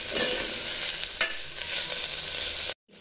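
Pulao base of seeraga samba rice and vegetables sautéing in a pan, a steady close sizzle with scraping stirs and a sharp spoon knock near the start, cutting off abruptly near the end.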